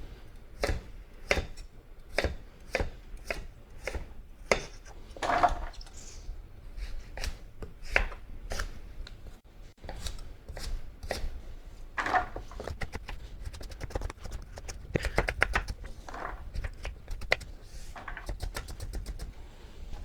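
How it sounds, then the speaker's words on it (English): A knife dices pumpkin into small pieces on a chopping board with quick, crisp, rhythmic chops. The chopping is close, continuous and steady throughout. "Now what we want to do is just take it down, smaller pieces to be diced."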